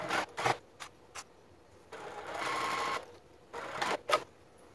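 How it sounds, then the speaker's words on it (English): A home sewing machine runs a line of stitching along a garment seam at a narrow 1/8 inch allowance, starting with a few short stop-start bursts, then one steady longer run, then more brief bursts, all close and fairly quiet. "we're going to go ahead and repeat base stitching at an 1/8 inch seam allowance"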